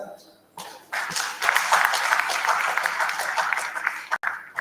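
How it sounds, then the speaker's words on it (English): Audience applause at an international logistics and transport conference, rising after a quiet moment into sustained, dense clapping from a sizable crowd, fairly close, with a brief break near the end. "Please join me in a round of applause for our participants."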